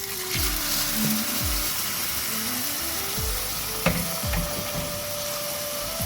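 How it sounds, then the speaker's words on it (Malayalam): Cooked prawns hit hot chilli masala in a pan and sizzle steadily, with close stirring scrapes and clinks of a spoon against the pan over the constant frying hiss. "ഇനി നമ്മൾ ഇതിലേക്ക് നമ്മൾ വേവിച്ച് വെച്ചിരുന്ന ചെമ്മീൻ അതുപോലെ അങ്ങോട്ട് ഇടാം"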